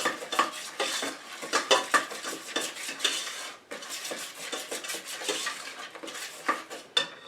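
A spoon scrapes rhythmically around a bowl while vanilla extract is stirred into brownie batter, with repeated close clinks and rubs in a steady stirring pattern.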